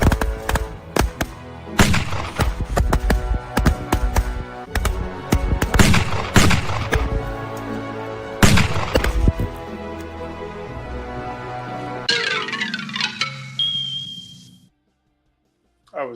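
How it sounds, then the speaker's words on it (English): Tank battle sound effects: dense, loud bursts of gunfire and heavy explosive booms rolling over one another for most of the stretch. Voices shout amid the din, then the barrage thins into a ringing, tonal sweep before a brief silence. "Oh no, it's tanks!"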